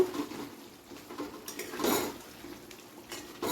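Fried pointed gourd stirred with spices in a pan, giving soft scraping and clinking of a spoon against the metal pan, with a louder scrape near the middle and faint sizzling underneath.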